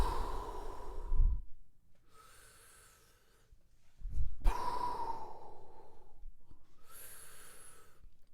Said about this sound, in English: I am now starting my breath.